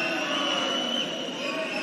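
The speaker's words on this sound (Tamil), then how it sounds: "அரங்கம் முழுவதும் ஆரவாரம்." An arena crowd roars at the end of a Tamil Nadu versus Haryana kabaddi semifinal. A dense, steady wall of cheering fills the whole moment, with a commentator's voice mixed into the din.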